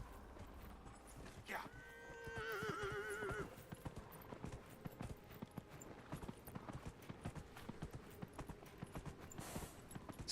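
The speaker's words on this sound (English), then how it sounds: "let's get the horse out." Rhythmic hoofbeats clip-clop steadily with a horse whinny early on, set against a busy background of game sounds in Dragon Age: Inquisition.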